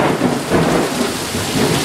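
Heavy rain and a thunderstorm in Lubbock, heard as a loud, steady downpour with low thunder rumbling underneath and no break.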